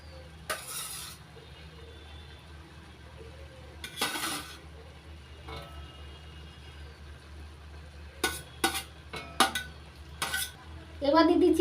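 Fried prawns go into a pan of banana flower and are stirred, a spoon clinking and scraping against the metal in several short bursts over a low steady background, with a soft sizzle rising near the end.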